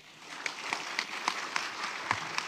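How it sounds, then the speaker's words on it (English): Sparse applause from a small group: distinct claps land in a fairly regular rhythm over a soft background hiss. "Please give them a warm applause."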